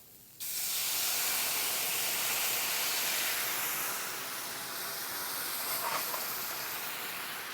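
Red wine poured into a pan of lightly sautéing shallot and garlic sets off a sudden loud, broad hiss that holds steady and eases slightly, with no talking.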